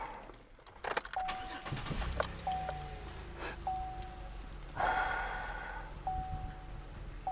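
Keys jangle and chimes ping inside a 2008 Chevy Impala before its engine cranks and fires up, followed by repeated dashboard warning tones over a quiet idle.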